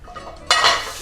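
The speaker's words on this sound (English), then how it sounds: "And you hear that sizzle?" Quiet clinks, then a sudden loud burst of sizzling as ground steak hits a hot pan coated in olive oil, crackling on steadily.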